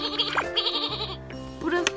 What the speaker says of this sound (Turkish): Hadi şimdi kuzuya tekrar bak. Bu kuzu, sarı kuzu.